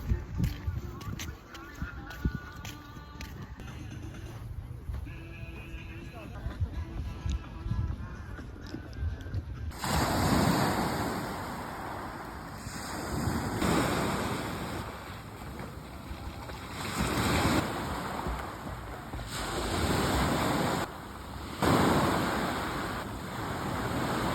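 Calm sea waves wash onto the shore at Ölüdeniz beach in Fethiye in the evening, a soft continuous rushing that swells and ebbs under gusty wind buffeting the microphone.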